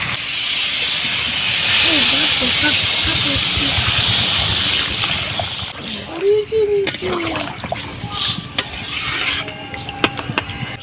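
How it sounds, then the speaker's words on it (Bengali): Water poured into a pot of sautéed rice and two kinds of lentils for khichuri, giving a loud steady hiss and rushing sizzle that fades into softer bubbling and clinks, with voices faint underneath. "এবারে জল দিয়ে দেবো"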